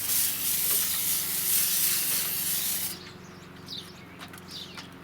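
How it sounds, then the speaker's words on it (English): Spray paint hisses from a can onto aluminum foil in a loud, steady burst lasting about three seconds, then cuts off, leaving quieter room sounds and faint bird chirps. "Now let's see what happens when we spray the aluminum foil."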